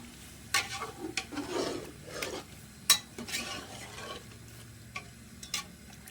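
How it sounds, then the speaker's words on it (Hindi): A spoon stirs fried chicken into qurma in a pan, scraping and clinking in irregular strokes over a soft, steady sizzle. "इसमें मैं अब चिकन डाल दूँगी जो हमने फ्राई किया था। चला लेंगे अच्छे तरीके से।"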